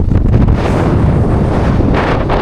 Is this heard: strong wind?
yes